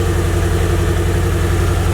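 A Nissan S14 engine idles steadily right after being started, a loud, close, even low rumble with a regular pulsing throb and no talking over it.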